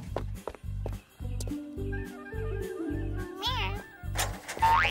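A cartoon cat gives a pitched, wavering meow-like call over a steady rhythmic clopping background, with several short tonal cries rising and bending near the end.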